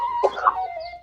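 A single chicken clucks nearby in a short, loud burst of squawking notes, clear and alone with no talk.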